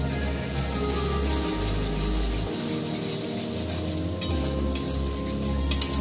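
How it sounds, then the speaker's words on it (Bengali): Spice masala of salt, turmeric, cumin, coriander and Kashmiri chili sautéing in oil for bata fish curry, a steady low sizzle with scraping stirs and a few sharp clicks near the end. "ভালো করে কষিয়ে নিচ্ছি।"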